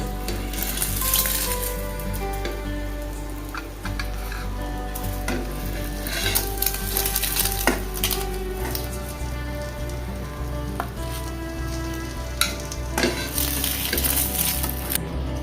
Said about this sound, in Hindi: मेरे जो अंडे हैं वो अंडे सारे अच्छे से फ्राई हो चुका है। आपको ऐसे कम ऑयल में इसको फ्राई करना है।